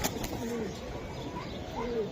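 A red-necked pigeon gives soft, low cooing calls, two short coos at the start and another near the end, over a busy, quiet background with faint wing rustles.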